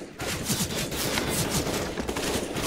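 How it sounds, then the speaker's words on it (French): A close, loud burst of automatic gunfire in CS:GO rattles in a rapid, steady stream of shots across a few seconds. "je le rafale lui comme jamais"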